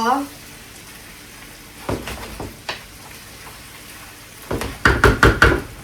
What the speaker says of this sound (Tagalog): i-prito muna natin siya ng ganyan